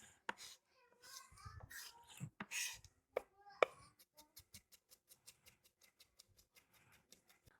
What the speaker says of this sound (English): I'm just going to take my onion. I want to chop it up real fine.